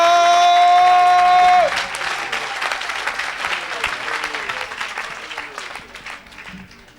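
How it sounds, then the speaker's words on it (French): A church congregation bursts into loud applause at an evangelistic service as a sustained musical tone stops, the clapping dense at first and then gradually thinning and fading. "Acclame."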